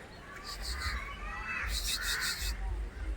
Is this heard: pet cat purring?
no